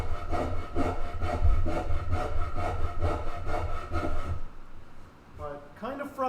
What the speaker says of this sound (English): I'll just use the old rasp